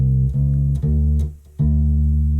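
Acoustic-electric U-Bass playing a swing-feel blues turnaround: a few deep, rounded bass notes with soft plucked attacks, sustaining into one another, close and alone.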